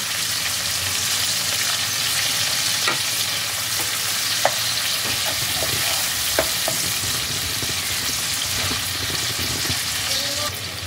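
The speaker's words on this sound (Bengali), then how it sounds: "টমেটোটাকেও খুব ভালোভাবে ভেজে নিতে হবে যতক্ষণ না টমেটোটা নরম হয়ে আসে" Chopped tomatoes frying steadily in a pan for a Bengali pabda fish curry, a continuous close sizzle with occasional stirring clicks and scrapes throughout.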